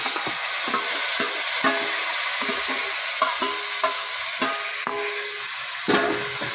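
Beef trotter paya yakhni mixture hits hot frying masala in a pot, a loud steady sizzle with repeated scraping stirs and spoon knocks through the whole stretch, close up and with no voices.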